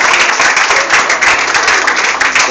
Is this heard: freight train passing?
no